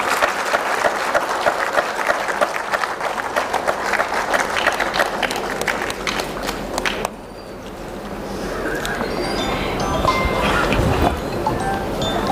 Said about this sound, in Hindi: आप सबकी तालियां बजती रहें।